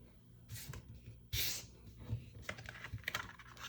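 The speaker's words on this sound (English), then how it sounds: "Okay, got this really taped down, so let's see if I can even peel it up." Removable tape is peeled up off paper in quiet, crackling tugs, with a sharp rip partway through followed by smaller ticking pulls.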